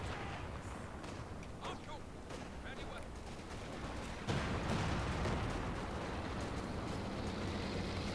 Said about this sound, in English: More artillery falling down on the Allied positions.